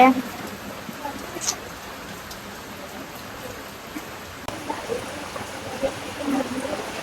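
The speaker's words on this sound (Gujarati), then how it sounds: "વરસાદ ચાલુ થઈ ગયો છે" Steady rain hissing across the whole stretch, a dense even wash of patter with a few louder drops, moderately close.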